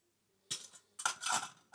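A metal Trangia simmer ring is fitted into a burner stand, giving a few short metallic clinks and scrapes, close and fairly loud, in two brief clusters with a final knock.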